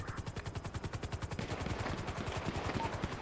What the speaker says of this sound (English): There's a lot of shots coming from the bridge.